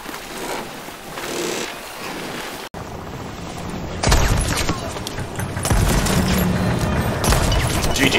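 Ship cannons boom over the sea in the pirate game Sea of Thieves, with repeated heavy blasts and rumbling impacts over ocean and ambient noise, growing louder and denser in the second half.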